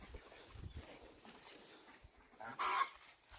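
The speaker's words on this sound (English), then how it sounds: "these are like they have hens and rooster" Hens and a rooster on a farm, heard faintly in open air, with soft scattered clucks and one brief, clearer squawk near the end.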